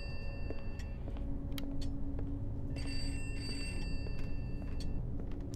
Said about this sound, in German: hörst doch ganz genau, dass da ein Telefon ist